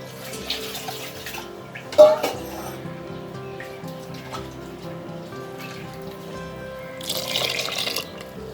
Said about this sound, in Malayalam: നമ്മൾ മിക്സിയുടെ ജാറിൽ നിന്നുള്ള വെള്ളം തന്നെ കഴുകിയിട്ട് അതിൽ ഒഴിച്ചു.